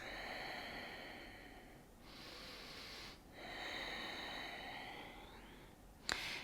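Slow, quiet breaths during a held yoga pose, with two long soft exhalations separated by brief pauses and a small sharp sound at the very end.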